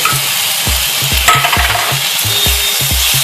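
Vegetables fry with Kashmiri chili powder, coriander, cumin and green chilies while a spatula strikes and scrapes the pan in a quick, regular rhythm of close, loud knocks over a constant sizzle. No one speaks.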